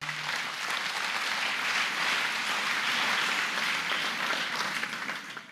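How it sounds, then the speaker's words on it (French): A hall audience claps loudly and continuously, dense sustained applause with no voices over it, swelling slightly in the middle before easing off at the end. "Je voulais demander à la salle vraiment d'applaudir très fort pour lui."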